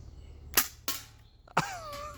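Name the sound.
BB pistol firing .30 gram BBs at cans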